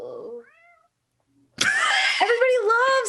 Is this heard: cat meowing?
yes